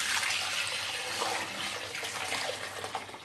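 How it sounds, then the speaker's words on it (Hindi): Lassi poured into a cooking pot for Punjabi kadhi makes a steady, splashy liquid rush, close and fairly loud throughout with no talk. "अब इसमें हम ये लस्सी जो बनाई है वो डाल देंगे।"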